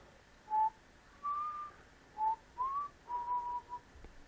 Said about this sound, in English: off in the distance the prince could hear a whistling